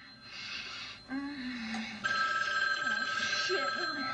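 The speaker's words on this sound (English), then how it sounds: "Can't help it, the phone keeps ringing." Telephone bell ringing repeatedly in bright, sustained bursts, with a brief pause before a louder ring, while a person's voice and breathy sounds run underneath.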